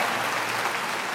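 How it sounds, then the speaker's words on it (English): A salon audience breaks into a continuous round of applause, a broad, even patter of many hands clapping at moderate level, steady throughout with no talking on top. "Give Vidal Sassoon a round of applause."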